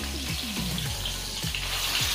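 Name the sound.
pointed gourd (potol) frying in oil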